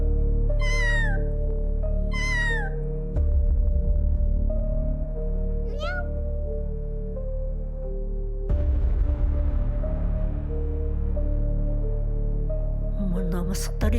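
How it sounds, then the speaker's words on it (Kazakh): Several cats meow from close by in short separate cries over a steady music bed with low thumps. "Мұнда мысықтар екеу ме?"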